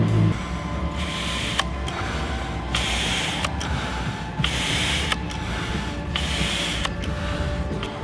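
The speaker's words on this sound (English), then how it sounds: "let's start pumping with this incredible pump by Aeolian, which is double" A double-action Aeolian hand pump inflates a kite bladder. Close, loud, rhythmic hissing strokes of air come roughly every second, each with a short mechanical click, repeating steadily.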